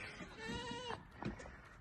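A goat lets out one wavering, nasal bleat close by, followed by softer rustling and a brief second call.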